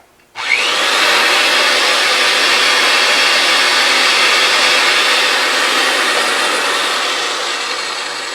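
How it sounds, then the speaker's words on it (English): RIDGID 300 threading machine reaming out a pipe: a loud, steady grinding whir starting abruptly and holding for several seconds, close and alone, easing slightly toward the end. "we're going to have to apply pressure with your carriage arm, lever arm, to actually ream that pipe out"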